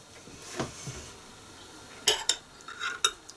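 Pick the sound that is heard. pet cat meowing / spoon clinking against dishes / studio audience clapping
spoon clinking against dishes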